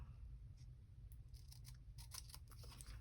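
Scissors snipping the top part off a piece of table-setting decor, a few quiet cuts that cluster toward the end over a low background hum.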